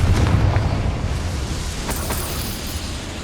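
A spell explosion in Hogwarts Legacy, set in a goblin mine, erupts with a deep rumbling boom that rolls on and slowly fades, heard alone without speech.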